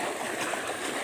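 Water pouring out in a steady broadband rush outdoors in a Bengal village, continuous and close for the whole short moment with no talk.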